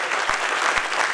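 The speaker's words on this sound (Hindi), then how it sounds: "तालियां मिलके बजाओ।" Audience applause at a Hindi poetry recital, a steady, close wash of many hands clapping together throughout the short stretch.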